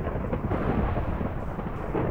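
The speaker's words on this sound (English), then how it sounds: "there's thunder on your head" Thunder in the Minecraft video game, a continuous low rumbling roll at moderate level with no voices, steady across the short stretch.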